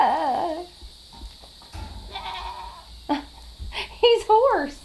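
A hoarse goat near a polywire fence gives several weak, raspy bleats in short bursts, loud and close, with people talking in between.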